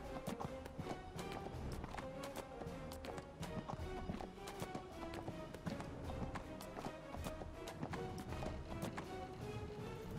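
Horse hooves galloping steadily in the video game Neverwinter, a quick repeating clip-clop rhythm that runs throughout at moderate loudness over a faint tonal game background.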